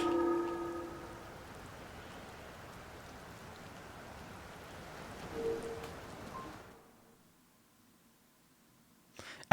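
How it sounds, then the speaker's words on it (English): Steady rain hisses inside a shrine in Zelda: Tears of the Kingdom, a soft, continuous wash of drops that cuts off abruptly into near silence. "It's raining even inside the shrine."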